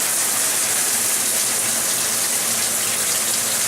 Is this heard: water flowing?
yes